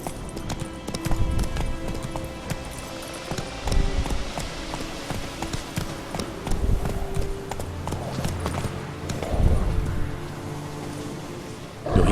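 Hooves clip-clop at a steady gallop under a horse's rider in The Witcher 3 game, continuous and fairly close, layered over music and a snort or two, with no talk during the run.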